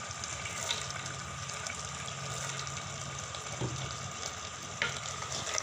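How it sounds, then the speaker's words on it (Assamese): Soaked black chickpeas drop into a simmering pan for an Assamese ghugni curry, setting off a soft, steady bubbling and sizzle with faint stirring clinks, no talk heard. "এতিয়া মই ইয়াতে তিয়াই থোৱা বুটখিনিও দি দিছোঁ।"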